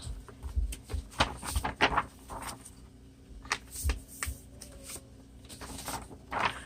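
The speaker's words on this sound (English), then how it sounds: "go ahead through your whole bunch of paper, fold them in half, stack them on each other" Sheets of paper, some coffee-dyed pieces and book pages, are folded in half and stacked, making repeated crisp rustles, slides and soft taps close by in an irregular rhythm, with no voices.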